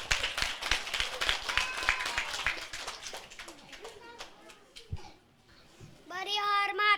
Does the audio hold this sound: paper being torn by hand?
no